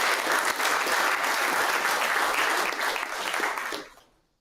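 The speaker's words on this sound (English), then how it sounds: "give everybody a round of applause" Sustained applause from the crowd at a bass fishing kayak series awards ceremony, loud and even for nearly four seconds before fading quickly to silence.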